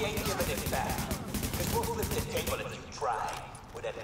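Rapid bursts of automatic gunfire from the video game Tom Clancy's The Division rattle on continuously under a player's voice.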